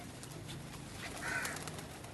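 Pigeons coo softly outdoors, a low murmuring call rising slightly midway over steady background noise, with no voices.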